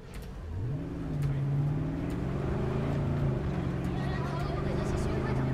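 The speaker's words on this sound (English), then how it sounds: "you get in the car and drive around" Car engine droning and rising in pitch as it accelerates through the busy city center in Cyberpunk 2077, a steady loud hum with shifting tones throughout.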